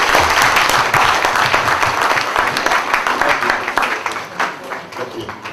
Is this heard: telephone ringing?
no